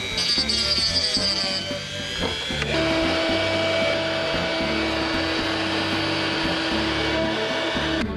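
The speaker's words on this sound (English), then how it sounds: "I got the sandpaper bit on the Dremel, and we're about to shape this up." A Dremel rotary tool with a sandpaper bit sands a part during an engine rebuild, a loud sustained high-pitched whine that shifts pitch as it bites into the workpiece, running continuously close to the mic.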